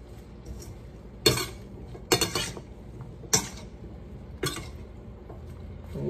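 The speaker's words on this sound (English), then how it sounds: "Stir it up." A spoon clinks against a pot while spiced cauliflower and other vegetables are stirred, four sharp scraping knocks spaced about a second apart over a quiet kitchen background, close and moderately loud.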